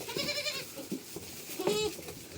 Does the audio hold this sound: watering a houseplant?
no